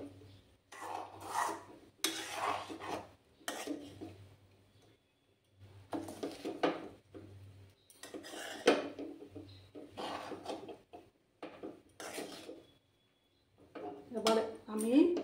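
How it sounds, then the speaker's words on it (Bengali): Bengali-style fried rice is stirred in a pan, with irregular bursts of scraping and clattering from the spoon against the metal, separated by short pauses and a faint low hum. "এবার আমি এটাকে ভালো করে নাড়াচাড়া করে নেব।"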